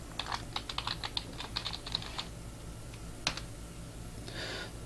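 Fingers tapping out a password on a computer keyboard, a run of quick close keystrokes, a pause, a single sharp key press, then a brief rustle.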